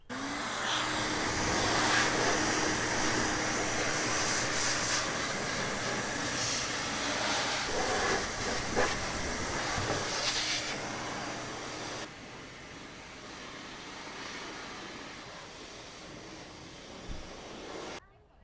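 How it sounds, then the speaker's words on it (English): High-pressure air blasts steadily across a wet car engine bay to dry it, a loud continuous hiss up close that keeps going for a long stretch before dropping lower near the end. "definitely recommend doing this if you have like some high air pressured system to get everything nice and dry"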